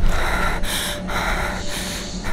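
Heavy, ragged breathing of the player character in the horror game Slender, loud and close, repeated gasping inhales and exhales in an uneven rhythm with no talk.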